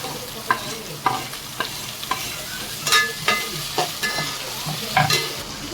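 Onion and green chili, browned golden, fry in a pan with tomato, the sizzle steady under regular scrapes and stirs of a spoon about every half second to second, close and fairly loud.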